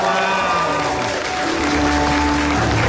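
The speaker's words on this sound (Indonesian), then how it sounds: "Mana tepuk tangannya?" Studio audience at an Indonesian comedy talk show clapping in a loud, continuous wash over a droning background tone, sustained for a few seconds without speech.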